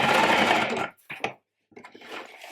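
A sewing machine stitches steadily to join a stitch line on a ruffled sewing project, running loud and close for almost a second before stopping, followed by faint handling noises of fabric.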